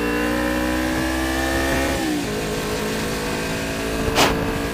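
Suzuki GSX 250 Invader motorcycle engine revving hard toward the red line, a loud close rising whine with harmonic pitch climbing, dipping at a shift, then climbing again, ending with a brief sharp burst.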